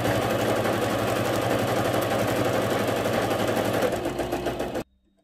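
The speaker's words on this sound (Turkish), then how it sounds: "Şöyle sıfırdan bir baskı dikişi uyguluyorum." A sewing machine runs a fast, continuous rattling stitch close up along the edge of a cross-stitch prayer rug, then stops abruptly, leaving near silence.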